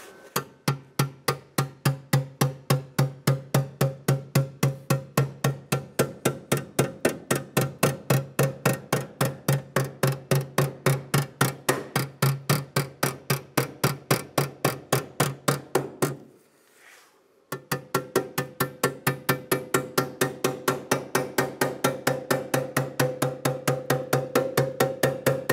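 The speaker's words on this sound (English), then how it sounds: "I'm going to use what is normally a body hammer, and if we need to, a flat screwdriver to help drive it in, but we'll start with the flat hammer." A flat body hammer taps rapidly and evenly on the cab corner panel of a 2001–2006 Chevrolet Silverado 2500, a long run of sharp metallic strikes close up, pausing once for about a second before resuming.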